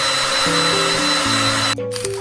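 A power drill sharpens a pencil in the video game Pencil Sharpening Simulator, a loud steady motor whine that shifts pitch in steps before cutting out briefly near the end.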